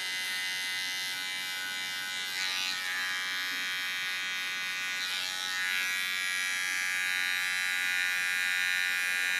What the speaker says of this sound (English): Of course I do this with a small clipper.